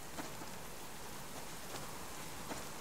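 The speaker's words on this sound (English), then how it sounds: "as you can see, it's still raining" Steady rain pours down in the survival game Subsistence, a dense, even hiss that lasts the whole stretch, with a few slightly sharper drops picking out from the wash.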